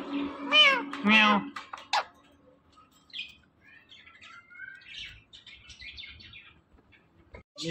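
An Indian talking parrot mimics a cat's meow, giving two loud, harmonic, close-up meows followed by softer chirps, squeaks and scattered clicks.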